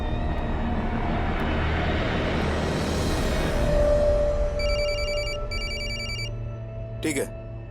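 A telephone rings in two short electronic bursts over a steady engine-like drone, followed by a brief burst of noise.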